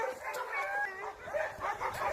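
Several hunting dogs kept at a kennel in Yakutia, trained on large hoofed game and bears, bark and yelp in overlapping bursts, a loud close chorus with no pauses.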